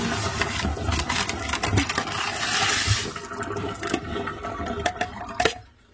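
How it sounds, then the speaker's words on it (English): Water drains out of soaked beans through a colander, a steady rushing splash with small clinks and knocks that fades out abruptly at the end. "I'm going to put it through this sift, through this colander. Just run the water out of these beans."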